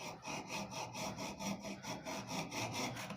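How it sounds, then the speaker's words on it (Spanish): A hand tool cuts through wood or MDF board without a power saw, in quick repeated rasping back-and-forth strokes, about four per second, close and steady with no talking. "Les sugiero que no lo hagan tan verticalmente, que lo hagan un poco horizontal y poco a poco lo van acostando para que vaya marcando la línea"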